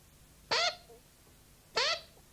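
A duck on a farm gives two separate, nasal, honking quacks about a second apart. Both are clear and prominent over a quiet background.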